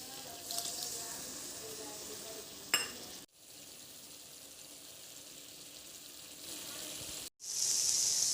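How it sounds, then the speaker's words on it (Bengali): Soybean chunks, potato and vegetables sautéed in a pan for a curry with a splash of water added, giving a soft, steady sizzle and frying hiss with brief stirring scrapes, ending in a brighter hiss. "এখানে আরেকটু জল দিয়ে কষাবো"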